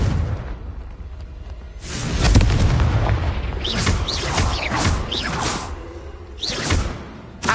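Confringo blasting-spell explosions in Hogwarts Legacy, a heavy boom followed by rushing whooshes and crackling bursts, with a further impact near the end, loud and continuous with no talking.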